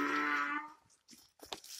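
A donkey brays loudly and close by in one long, strained call that fades out, followed by a few short scuffs and thuds.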